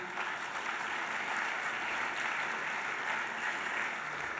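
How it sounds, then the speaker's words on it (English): Steady, even applause from a large audience at the Africa Trade Summit 2026, sustained at moderate level with no pauses, heard somewhat distant as a continuous wash of clapping. "This is where you clap."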